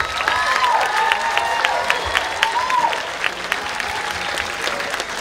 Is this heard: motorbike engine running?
no